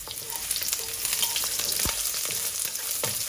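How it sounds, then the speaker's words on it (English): Sliced young ginger and quartered shallots brown in a pan over medium-low heat, giving a close, continuous sizzle with scattered clicks and taps from stirring. "Let's brown them a little."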